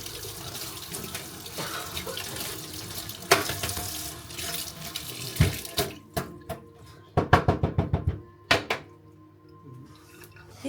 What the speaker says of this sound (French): donc je vais laver mon petit pinceau